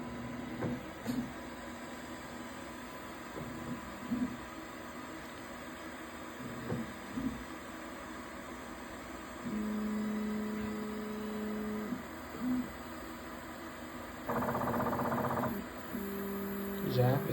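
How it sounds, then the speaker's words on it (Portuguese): A Creality K1C 3D printer whirring and humming, with stepper motors shifting pitch in short sustained bursts over a constant electrical drone. "Já esse barulho sempre foi normal da impressora."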